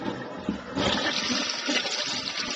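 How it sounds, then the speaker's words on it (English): A household toilet flushes with a close, loud rush of swirling water that starts abruptly and keeps gurgling steadily. "What I'm going to do is I'm going to flush the toilet"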